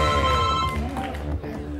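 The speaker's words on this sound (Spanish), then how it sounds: "¡Teléfono!" A telephone rings on an Argentine TV game show, a bright electronic ringtone that sounds for under a second before lively studio voices and crowd noise take over.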